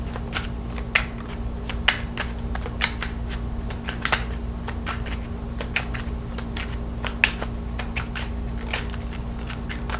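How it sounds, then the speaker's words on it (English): Tarot cards being shuffled by hand, a run of quick papery riffles and flicks at an uneven rhythm, close and fairly clear over a faint steady hum. "All right, let's get some tarot cards."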